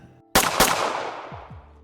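Two pistols fire in quick succession, two loud sharp bangs about a quarter second apart, followed by a long fading echoing tail.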